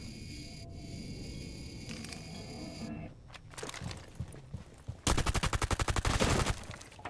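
Gunfire through a wall in Rainbow Six Siege: muffled game sounds, then a few sharp shots and a fast, loud burst of automatic fire near the end.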